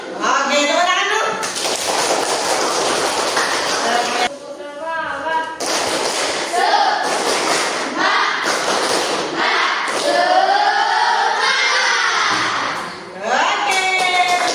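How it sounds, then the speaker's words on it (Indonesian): A class of students claps their hands together in repeated loud bursts, mixed with children's voices chanting and calling out in a classroom. "Oke, tepuk tangan dulu."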